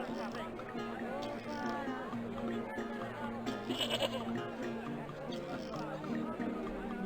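A goat in the adventure game Broken Sword II: The Smoking Mirror lets out faint bleats against a murmuring crowd and chatter ambience, with voices talking over much of it.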